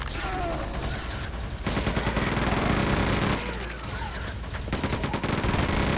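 Gunfire from monsters infighting in Quake II 64, a dense burst of overlapping shots and blasts that runs almost without pause, loud and close, with a brief lull before the firing resumes.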